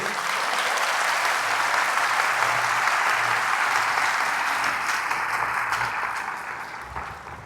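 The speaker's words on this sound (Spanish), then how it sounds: "Dale un aplauso al Señor grande." Loud, dense applause from a church congregation during a Catholic service, sustained clapping that holds steady and then fades toward the end.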